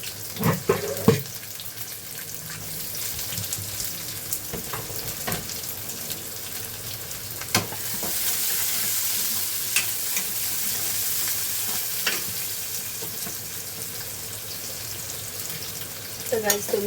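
Onion dropped into a pan of cooked garlic and ginger, frying with a steady sizzle and occasional stirring clatter in a small home kitchen; a water tap runs briefly at times, with no talking.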